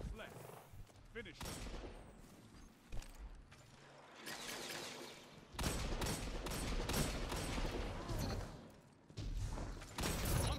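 Hand cannon gunfire in a competitive first-person shooter match, sharp repeated shots and clattering mechanical weapon sounds in bursts, fairly loud and busy, with intermittent game effects between volleys.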